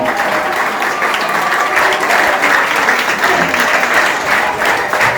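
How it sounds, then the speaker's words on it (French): Sustained applause from a standing audience at the grand final of a school quiz contest, a dense, steady wash of many hands clapping at close range with no talk over it. "mettez-vous debout, s'il vous plaît, pour applaudir la fête."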